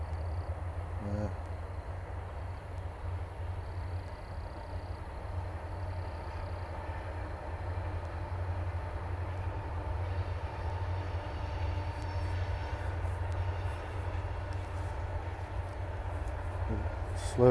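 Low, steady rumble of a train rolling slowly past, continuous and even, with faint higher whines drifting above the heavy drone.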